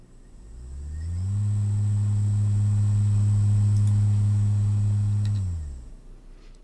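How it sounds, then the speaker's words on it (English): A low electric motor hum from a trapezoid-driven motor controller swells up steadily, holds loud and even for about four seconds with a faint high whine above, then winds down, with no talking. "you can hear it from the motor, a sort of hum or a screech"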